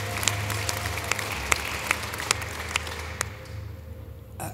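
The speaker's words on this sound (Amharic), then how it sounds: "እስቲ አጨብጭቡላ ለጌታ ክብር" An audience claps for the Lord in steady, evenly spaced beats over a low hum, the rhythmic claps carrying for about three seconds before stopping.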